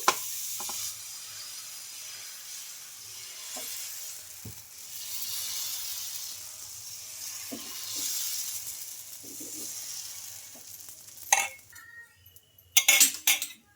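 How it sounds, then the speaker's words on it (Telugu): Rava dosa batter sizzles steadily on a hot pan throughout, a soft continuous hiss broken by occasional light clinks of a utensil, with louder metallic scrapes and clatter near the end. "ఈ దోశ బ్యాటర్ని అంత బాగా ఒకసారి కలిపేసుకొని ఇంక ఇప్పుడు ఇలా దోశ అయితే వేసుకోవాలి"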